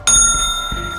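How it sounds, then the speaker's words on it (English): A small gong struck once for good luck rings out loud and close, its bright metallic tone sustaining and slowly fading across the whole moment with no talk over it. "on this beautiful Friday, we ring the gong for good luck"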